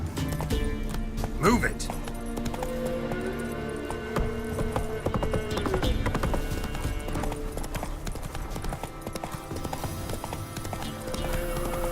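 Horse hoofbeats gallop in a steady rhythm through Witcher 3 gameplay, mixed with game music and ambience while a rider's voice calls out over them.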